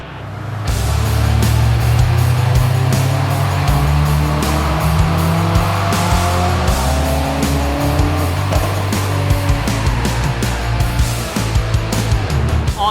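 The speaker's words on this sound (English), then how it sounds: "now it's time to get this thing on the dyno and get it properly tuned" A tuned Subaru STI, turbocharged at 22 PSI of wastegate pressure, roars through a dyno pull, a loud, sustained engine howl with climbing pitch and rough, throbbing harmonics.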